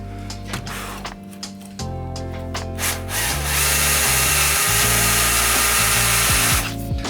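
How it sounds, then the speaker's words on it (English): A power drill countersinks holes for ETOXX deck flaps, whirring in several short bursts that rise and fall in pitch, then settling into one longer loud grinding run near the mic. "now we've got to countersink these holes"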